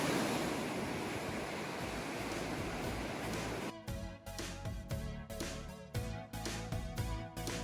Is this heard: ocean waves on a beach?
yes